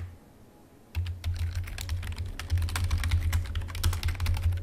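Rapid clattering keystrokes on a computer keyboard during a Deus Ex: Mankind Divided play session, starting after a short quiet moment and continuing steadily and close, alone with no voices.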